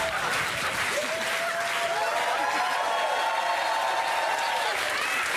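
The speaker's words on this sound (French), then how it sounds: "applaudissements pour lui" Sustained studio audience applause for comedian Jean-Luc Lemoine on a TPMP television set, a dense wash of clapping that holds steady and loud throughout, with a faint voice or cheer riding over it.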